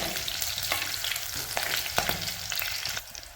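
Cut bullet chillies and curry leaves fry in hot oil with a loud, continuous, close crackling sizzle and a few sharper pops. No voices are heard.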